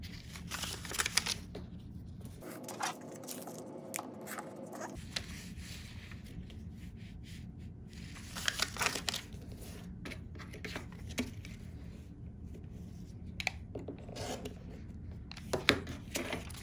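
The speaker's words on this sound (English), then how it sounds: "So all I'm going to do is trim both of these now." Paper-pieced quilt block pieces are trimmed with soft, close rubbing and scraping cuts, punctuated by small clicks and taps, with no talk.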